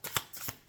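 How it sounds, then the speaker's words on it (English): Tarot cards being shuffled, three short crisp papery riffles spaced apart, close and soft, with no voice over them. "shuffling the cards"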